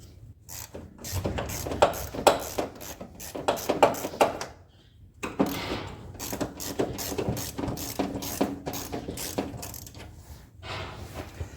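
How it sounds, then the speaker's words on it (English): A ratchet clicks rapidly in short bursts while loosening nuts on a 1971 AMF Ski Daddler Mark IV vintage snowmobile, close and mechanical, with brief pauses between runs of ratcheting. "Now I'm going to loosen off these corresponding nuts on the other side of the sled."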